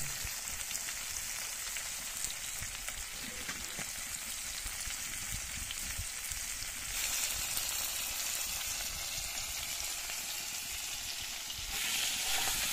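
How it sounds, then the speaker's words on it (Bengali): Turmeric- and salt-coated prawns fry in hot oil in a wok, giving a loud, steady, dense sizzle that runs unbroken and alone, swelling slightly near the end. "মা চিংড়ি মাছগুলোকে ছেড়ে দিল কড়াইতে গরম হওয়া তেলের মধ্যে।"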